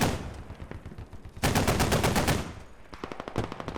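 Heavy machine gun fire in a war video game battle with Australian troops against insurgents, loud sustained bursts of rapid shots, a long burst in the middle and shorter rattling bursts around it.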